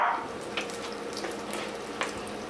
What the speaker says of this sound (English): bet you thought I was done sizzling that meat.